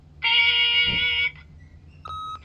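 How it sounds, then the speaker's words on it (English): An answering machine gives a long, loud electronic tone followed by a shorter second beep, close and clear over a faint hum. "Beep!"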